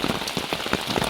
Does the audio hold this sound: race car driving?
no